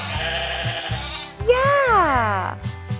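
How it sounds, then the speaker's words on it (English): A single sheep bleats in a barn, one drawn-out wavering call rising over rhythmic background music and then fading. "Sheep says bah."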